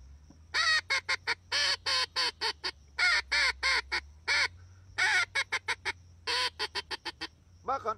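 A reed duck call blown to imitate a teal, giving rapid bursts of short, bright quacking notes in quick groups with brief pauses, loud and close, with no talking.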